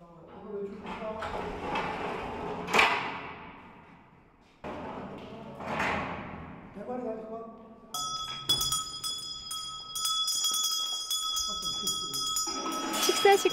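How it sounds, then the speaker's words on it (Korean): A bell rings at feeding time for Asiatic black bears at a Jeju eco park. After several seconds of a person talking and some clunks, bright metallic ringing starts and keeps sounding in repeated strokes until the end. "식사 시간을 알리는 종소리와 함께 먹이를 넣어주는데요"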